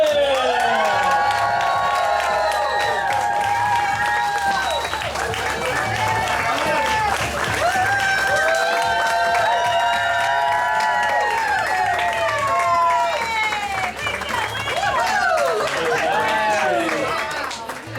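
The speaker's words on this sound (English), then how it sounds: "And a big cheer for Mr. and Mrs. Todd Chamberlain." Wedding guests cheer and applaud for the newly married couple, a dense, lively crowd roar with whoops and clapping sustained throughout, loud and close, with voices shouting over it.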